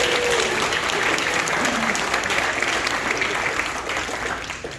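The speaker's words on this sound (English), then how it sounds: "So clap it up for yourselves." Applause from a group celebrating a high school volleyball team at an end-of-season gathering, a dense steady clatter of many hands that holds strong throughout and tapers slightly at the end, with faint talk underneath.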